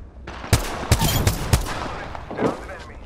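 A close burst of gunfire in the battle royale shooter Apex Legends: four sharp, loud shots in an uneven rhythm over about a second, then a fading rumble under a brief voice.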